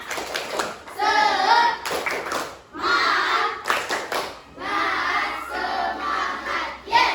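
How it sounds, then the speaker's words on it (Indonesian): A group of schoolchildren perform a rhythmic spirit clap in class, chanting loudly in unison between sharp bursts of clapping that fall in a patterned beat. "Tepuk semangat."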